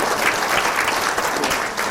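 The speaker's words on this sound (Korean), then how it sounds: "박수." A book concert audience claps in a brief, loud, dense burst of applause, close and continuous throughout.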